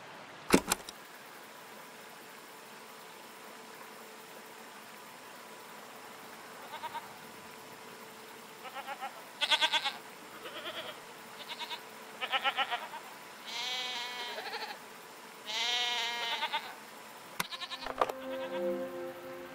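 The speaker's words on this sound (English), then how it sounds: "What are these strange goats?" Goats bleat in the video game Season: A Letter to the Future, a series of short wavering calls spaced out over a quiet ambient background, with a sharp knock near the start and another near the end.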